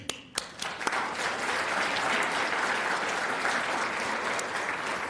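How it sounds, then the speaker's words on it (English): Audience at a scholarship luncheon gives a round of applause, starting with a few scattered claps before building into steady, dense clapping that fills the room at close range. "I also want to give them a round of applause for the work that they do"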